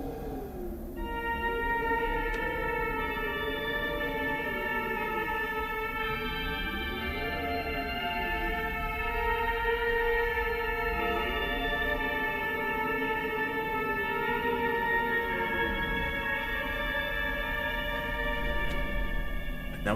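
A melody plays from a piano in the Fatal Frame: Mask of the Lunar Eclipse video game: slow sustained tones drift over a constant droning ambient bed with a low rumble, steady and unbroken with no voices.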